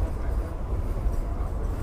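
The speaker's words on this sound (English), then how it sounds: "Fucking train's moving so much." A moving subway train rattles and rumbles steadily throughout, a loud, continuous low-heavy roar from inside the car.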